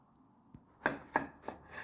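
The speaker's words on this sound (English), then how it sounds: "so you cut them in half, and one more time in half" A knife chops through zucchini on a cutting board, with four or five crisp, close strikes spaced at an even, quick rhythm in an otherwise quiet kitchen.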